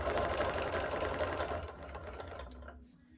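A sewing machine doing free-motion appliqué stitching on quilted trees runs in a steady, fast whirring buzz at close range, then slows and stops near the end, with no talking.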